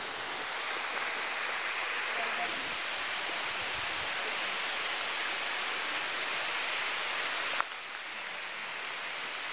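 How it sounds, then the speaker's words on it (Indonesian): Several waterfalls merging at the Sigura-gura hydroelectric plant send up a loud, dense, unbroken roar of rushing water that fills the whole clip, dropping slightly in level near the end. "Tapi memang ini sangat cocok karena ini gabungan dari beberapa air terjun."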